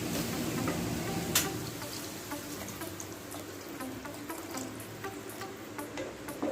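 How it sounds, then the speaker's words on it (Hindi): A glass of water is poured into a simmering potato curry (aloo sabzi) in a pan on a gas stove, giving a steady splashing, sizzling wash with a few light clicks and no talking. "अब हम इसमें थोड़ा सा पानी ऐड करेंगे।"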